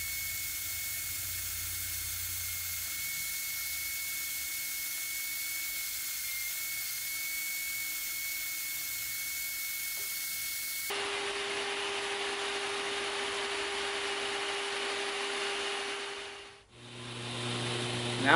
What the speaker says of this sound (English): use the bandsaw to cut off all the excess